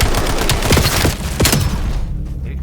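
XMR rifle shots during a Black Ops 7 kill cam, a few heavy thumping reports close together over busy game noise, fading out toward the end.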